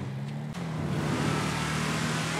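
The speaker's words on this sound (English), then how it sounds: "Boy, I love this freaking truck. It sounds so beautiful." Heavy truck engine in GTA 5, a steady loud low drone that holds throughout with a brief dip early on, as if cruising under a bridge.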